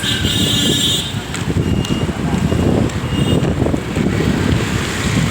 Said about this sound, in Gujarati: ઠંડો પવન, વરસાદ આવવાનો.